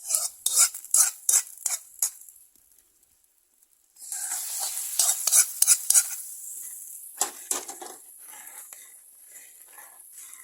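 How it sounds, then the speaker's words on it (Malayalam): Mustard seed tempering poured into a simmering ozhichu curry made with large lemon: a few light spoon-and-pot clinks, then a sudden loud hiss of sizzling that keeps crackling and slowly fades, with no talking. "ഇപ്പം കടുക് താളിച്ച് ഒഴിക്കാം."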